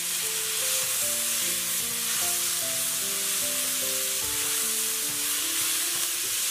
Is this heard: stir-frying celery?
yes